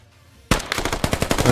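Automatic rifle fire in the tactical shooter game Squad, a sudden loud sustained burst of rapid shots that starts abruptly after near silence.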